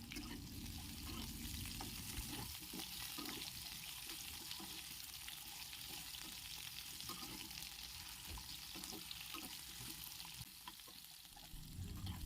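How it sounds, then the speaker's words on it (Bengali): Potato pieces frying in hot oil in a kadai: a steady, fairly faint sizzle and crackle that continues throughout, with occasional soft stirring sounds. "কড়াইতে তেল গরম করে তাতে টুকরো করে রাখা আলু দিয়ে ভেজে নিতে হবে"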